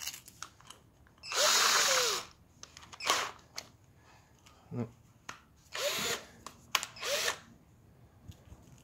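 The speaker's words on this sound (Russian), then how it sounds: "Берете вот такую дрель." An electric drill run during preparation for a NEO head gasket replacement: several short, loud whirring bursts separated by pauses, with brief speech in between.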